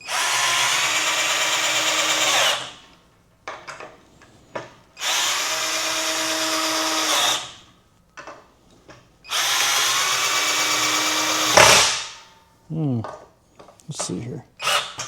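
A cheap Harbor Freight power drill whines loudly in three long bursts of several seconds each as it drills into wood, separated by brief pauses with clicks and handling noises.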